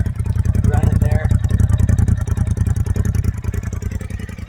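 A Polaris RZR Pro XP4 Turbo side-by-side sits idling nearby, its engine giving a steady low, even throb with a faint rattling clatter on top, holding level for the whole stretch.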